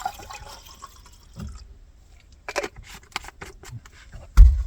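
Water is poured into a drink of honey moonshine from a Nova Scotia distillery while truck camping in extreme cold: brief trickles and scattered splashes and drips in short bursts, ending with a dull thump.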